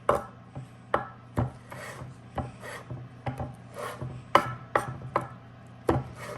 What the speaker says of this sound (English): get this cut up a little bit smaller, just a rough chop